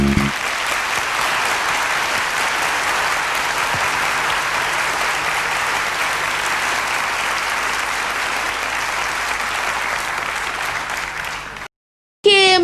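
Steady applause from a crowd that runs unbroken for about eleven seconds, then cuts to a short silence before a brief burst returns at the end.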